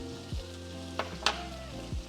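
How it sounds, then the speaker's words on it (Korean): Green onions and sesame salt sizzle in a hot pan for an eggplant appetizer. The frying hiss is steady and close, with a few quick stirring scrapes and clicks and no talking. "파 숨 죽을 정도로만 익히면 돼요"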